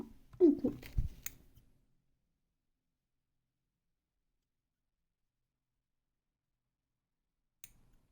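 Scissors snipping thread after a knot is tied while finishing a fabric flower, a few close, crisp clicks and snips in the first second or two, then near silence with one faint tap at the end.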